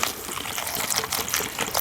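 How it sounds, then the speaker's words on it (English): Water trickles and splashes into a bowl of flour and salt for damper, Australian camping bread, in a soft, continuous pour heard close up with no talking. "We're going to add some water,"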